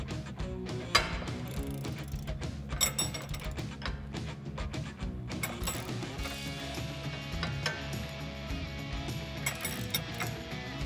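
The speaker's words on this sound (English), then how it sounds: "we can grab a 6mm Allen key and a 19mm wrench and just go ahead and tighten that down" A wrench tightening the nut on a Jeep Wrangler JK sway bar end link, giving rapid ratchet clicks and metallic tool clatter close by, in busy bursts with a sharp knock near the start and no talk.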